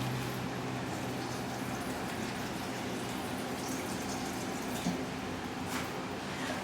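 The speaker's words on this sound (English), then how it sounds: "Put them in here, and then you put a little bit of cold water." Cold water pours steadily into a container, a continuous rushing splash at moderate volume that holds evenly for several seconds with no talk over it.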